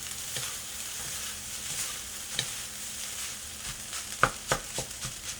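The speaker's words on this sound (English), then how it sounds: "I'm going to cook this rice until they're nice and hot." Rice frying and being stirred in hot oil with onion for pork fried rice, a steady close sizzle with scattered scraping stirs and a few sharper clinks near the end, no talking.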